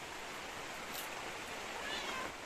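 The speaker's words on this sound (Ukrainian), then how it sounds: "Дуже м'який, смачний кіт прийшов у гості" A soft, fluffy cat that has come in from the rain meows faintly against a steady background hiss, a brief quiet call with no talking.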